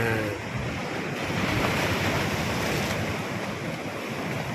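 Ocean swell rolls in at high tide along a coastline, a continuous close roar of surf and churning water mixed with heavy wind buffeting the microphone.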